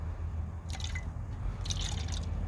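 Clear water is poured in to top up a container, two brief splashing trickles over a low steady background hum.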